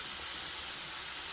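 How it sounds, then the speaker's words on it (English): Vegetables and chestnut mushrooms frying in butter in a pan, giving a steady, close sizzling hiss that holds evenly throughout with no pauses or talk. "I've got the noce and all the vegetables frying in some butter"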